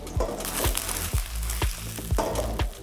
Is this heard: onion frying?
yes